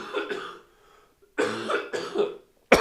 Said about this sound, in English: I just did a massive coughing fit